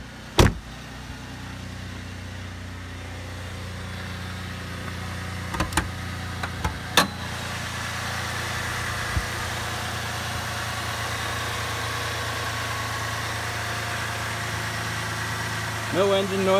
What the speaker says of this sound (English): Nice quiet engine.